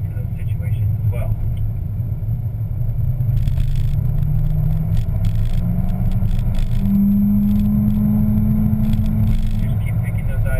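A car engine drones loud and steady on the Spring Mountain race track, its pitch climbing gradually as it accelerates through a long, smooth stretch.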